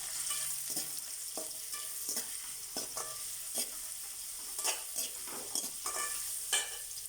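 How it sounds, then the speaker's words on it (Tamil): Onions sizzling and sautéing in a hot pan after fennel seeds, with a spoon repeatedly stirring and scraping at a steady rhythm throughout. "நறுக்கி வச்சு வெங்காயத்தை நல்லா வதக்கணும்"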